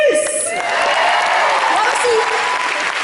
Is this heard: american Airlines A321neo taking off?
no